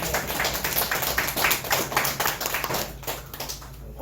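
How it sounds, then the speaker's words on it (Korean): A small group claps briskly, steady and close, the patter thinning and dropping off toward the end after a product presentation. "박수"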